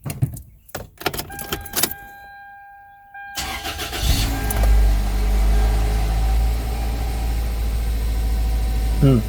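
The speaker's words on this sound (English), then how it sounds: "Yeah, it's idling rough." A 2002 Toyota Corolla cranks and fires up after a few clicks and a warning chime, then settles into a loud, steady but rough idle up close that runs on to the end.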